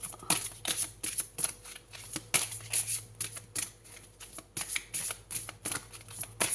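Oracle cards shuffled by hand in a tarot-style reading, a run of quick papery riffles and flicks coming in bursts close to the mic with no voice over them.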